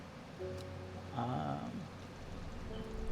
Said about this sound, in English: at least the rain sounds nice